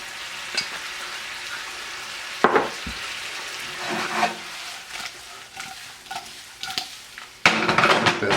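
Shrimp sizzling in a pan with a seasoning blend, low crackling fry broken by a few sharper stirring and pan scrapes, with a louder burst of sizzle near the end; no talking.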